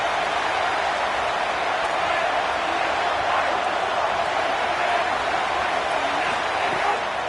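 A stadium crowd at a Nebraska college football game roars behind the defense on a big third down, a steady, distant wall of cheering that holds at the same level throughout.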